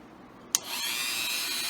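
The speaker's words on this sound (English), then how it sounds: "But we're going to take our Dremel." Dremel rotary tool spins up after a sharp click, settling into a steady high-pitched whine as it begins carving a small notch above a hole, loud and close with no talking.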